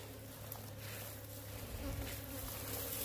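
Wild honey bees buzz in a steady, dense drone around a roadside hive being dug out in mountain forest, close and continuous with no talking.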